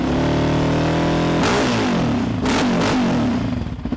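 Yamaha Raptor ATV engine with a Sparks full exhaust system, no quiet-core insert, and a modified airbox: a loud, close engine note holds a steady idle, then revs sharply twice with rising and falling pitch, no talk.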